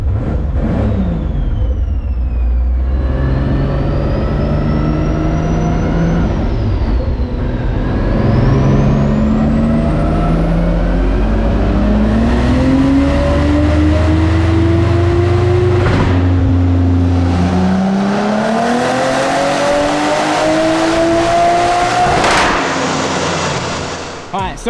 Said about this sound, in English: So we're gonna do another pull.